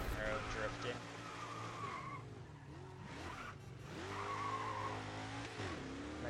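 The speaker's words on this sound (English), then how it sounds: "I'm not very good with the Camaro drifting." A Camaro drifting in the racing game Grid 2, tires skidding and squealing in long wavering tones over a steady engine drone, with other cars nearby.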